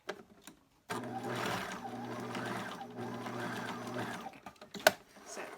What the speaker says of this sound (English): let me do one more row stitching here